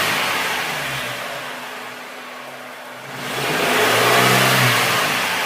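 A car engine with fuel injection is revved up to about 2000 rpm, its steady hum easing slightly, then climbing again to a stronger, sustained rev, close and loud.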